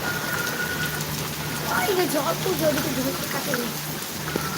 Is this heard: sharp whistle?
no